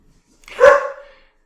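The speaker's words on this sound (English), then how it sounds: "That's my dog saying, "Hello, hello, I gotta go."" A single dog bark rings out close by, one short voiced burst with a slight trailing tail, alone in an otherwise quiet room.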